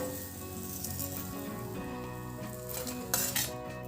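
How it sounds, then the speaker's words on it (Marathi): Tilgul poli, a sesame-jaggery flatbread, roasts on a hot pan with a soft, continuous sizzle and clinks of metal utensils against cookware. A brighter clatter near the end. "पोळी छान दोन्ही बाजूने खरपूस भाजून झाली आहे."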